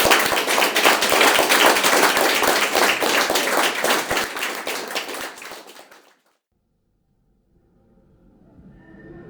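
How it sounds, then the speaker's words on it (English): Audience applause for a speaker at a talk, a dense crowd of claps heard close and loud for about six seconds, fading out before a brief silence and faint room noise. "Big round of applause for Mark Evans."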